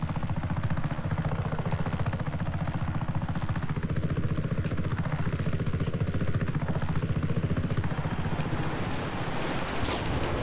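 A helicopter engine drones steadily throughout in the video game Just Cause 3, its rotor pulsing loud and continuous while the engine pitch rises and falls several times.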